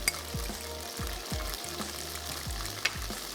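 Fish gravy masala sizzles and fries in a pan as yogurt is stirred in, a steady close hiss with soft rhythmic stirring scrapes and one sharp clink, no talk.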